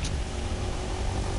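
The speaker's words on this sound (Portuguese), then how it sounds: "O barulho da moto está a me irritar." A motorcycle engine in the video game Fortnite drones at a low, steady pitch, a continuous rumble filling the short moment without any talk.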